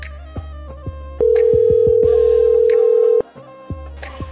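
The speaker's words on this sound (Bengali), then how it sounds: "আমি ফ্রেন্ডের একটা ফোন দিই" A phone ringback tone sounds as a call is placed: a steady loud tone holds for about two seconds, alone and up close, with soft background sounds before and after.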